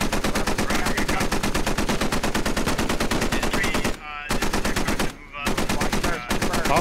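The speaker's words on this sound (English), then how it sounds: "Oh, shots incoming on the MAV-V. MAV-V returns fire." Rapid automatic gunfire rattles in the military shooter game Squad, as an armoured vehicle and enemy troops exchange fire. Dense, loud, sustained bursts are broken by two short pauses.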